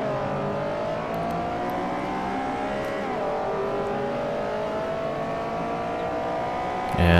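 A Honda CRX race car engine in Forza Motorsport 4 drones loudly and steadily at Suzuka East, its pitch sliding with gear changes, then swells in a sudden surge at the end, with no voices.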